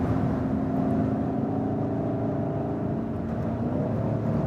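A 2019 BMW M550i G30 with its V8 engine accelerating, a steady deep growl with a low droning tone that holds evenly throughout and rises slightly near the end, heard from inside the car with no talking.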